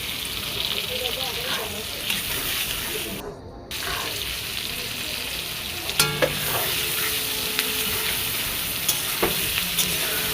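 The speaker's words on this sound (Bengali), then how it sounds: "পেঁয়াজ কুচিগুলো ভালো করে ভেজে নেব যতক্ষণ না কালার চেঞ্জ হয়ে আসে।" Chopped onions fry in a pan for mutton curry with a steady, loud sizzle, while a spoon stirs and scrapes in repeated bursts and sharp clinks of utensil against the pan ring out close by.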